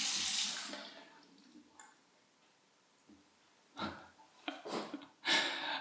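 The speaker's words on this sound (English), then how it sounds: "I just realized I left the water running again" A bathroom tap runs during a wet shave, a faint steady trickle sitting under louder bursts of splashing and rinsing water.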